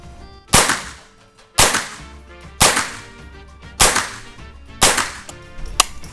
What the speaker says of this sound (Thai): ผมจะยิงเร็วนิดนึงนะ